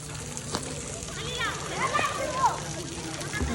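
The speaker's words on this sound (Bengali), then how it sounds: "ওরা এখন সাঁতার শেখার চেষ্টা করতেছে।" Light water splashing and sloshing as children try to learn to swim in a pool, soft irregular splashes under a voice talking nearby.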